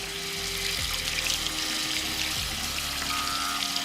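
Tap water runs steadily over a waterproof electric razor held under the stream, a continuous close splashing rush with no voices.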